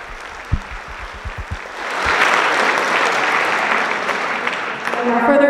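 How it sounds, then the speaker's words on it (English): Audience applause at a high school spring band concert: a few separate claps open, then the clapping swells into a dense, loud, sustained round from many hands, with a voice briefly audible near the end. "Please give them a round of applause"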